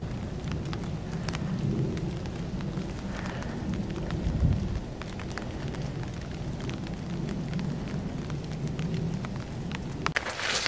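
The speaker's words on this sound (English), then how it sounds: "and it's raining again" Steady outdoor rain falls in a woodland, a broad continuous hiss filling the whole stretch, with a soft low rumble partway through and a few sharper patters on nearby surfaces.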